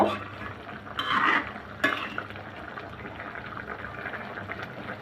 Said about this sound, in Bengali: আমি জাস্ট আলতো করে নেড়ে দিব বেশি জোরে নাড়া যাবে না